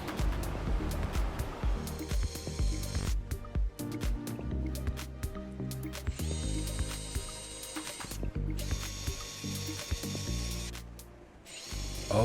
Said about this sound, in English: I'm gonna tape it, drill all those holes